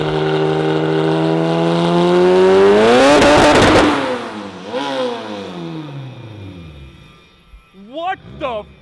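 A one-off Lotus engine on a dyno revs steadily higher to a loud peak, bursts, then drops away with a few short follow-up blips, close and powerful, voices underneath.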